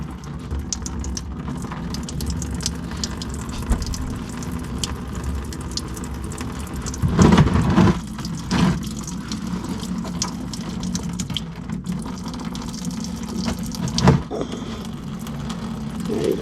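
Coolant draining from the opened radiator petcock of an LB7 Duramax diesel, a steady watery gush running throughout with a couple of brief louder splashes and clanks partway through; no talking.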